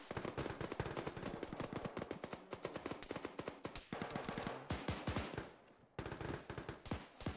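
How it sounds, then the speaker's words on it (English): Rapid gunfire fills a military video game firefight in Arma, dense overlapping bursts and single shots cracking continuously with short pauses, no talking over it. "Taking fire from the building just east of the radar building."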